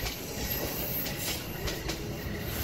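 Cartoon train sound effect at a station platform: a steady rail rumble with faint rhythmic wheel clatter and a thin metallic squeal, loud and continuous with no voices.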